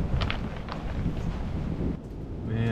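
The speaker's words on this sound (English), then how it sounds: "It just sounds so windy out there." Steady gusting wind roars outdoors on a snowy winter night, a broad rushing noise that dips briefly before picking up again.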